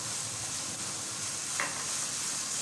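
Spices fry on a tawa in a steady, close, soft sizzle with a faint stirring scrape partway through, and nothing else is heard.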